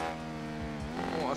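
A Honda Africa Twin motorcycle revs and accelerates in the racing video game Ride 3, its engine tone climbing in steady harmonics and rising sharply near the end.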